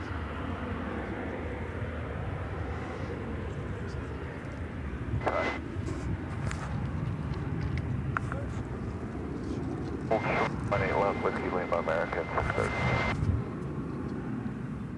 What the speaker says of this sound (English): Just touching down after completing an hour and 45-minute flight from Phoenix, Arizona.